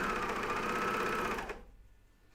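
A coverstitch machine stitches a pajama-top hem at speed, running over a thick seam: a steady loud mechanical whir with a busy needle rhythm for about a second and a half, then stopping abruptly into quiet.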